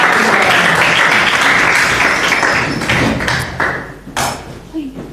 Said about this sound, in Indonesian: Sekali lagi kita tepuk tangan dong.